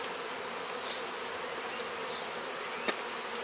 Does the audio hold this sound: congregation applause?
no